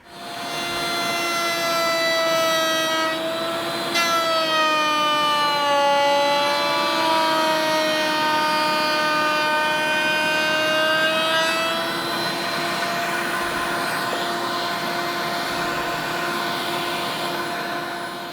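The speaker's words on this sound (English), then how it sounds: "Now I'm going to put a chamfer on the edge so it looks like this wing can actually fly." A wooden shelf edge being chamfered produces a loud, continuous high-pitched machine whine that holds for about eighteen seconds, its pitch sagging briefly mid-cut.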